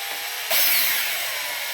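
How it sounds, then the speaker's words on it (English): An electric power drill starts boring a hole in a center-punched metal part while building a 1992 BMW R100R cafe racer motorcycle, a steady high whine that jumps up at once and holds near and fairly loud without talk. "So here goes the first hole. So I center punch this thing, and I'm gonna try to find it with the drill bit"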